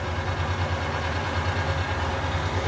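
A Harrison M390 geared head gap bed engine lathe runs at 190 RPM, giving off a loud, steady mechanical drone and hum with an even, unbroken texture and no pauses.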